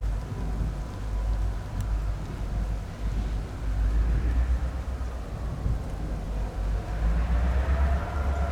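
A heavy freight train rumbles and clanks at close range near a crossing, a low steady rolling noise with faint squeals as it slows to a halt.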